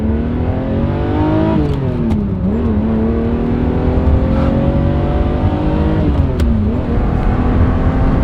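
A loud Lamborghini Murciélago engine drones and rises in pitch, dipping briefly at each gear change before climbing again, heard up close from inside.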